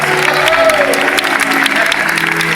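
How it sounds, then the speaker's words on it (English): Loud, close applause from a school class fills the whole moment, with a voice briefly audible beneath the clapping. "Give her a round of applause."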